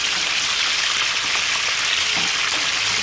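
Fish fries in a hot pan as it is turned. A dense, steady hiss and crackle of oil holds at a constant loud level from start to finish, with no voices.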